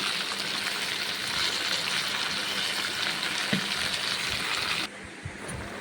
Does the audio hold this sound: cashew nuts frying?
yes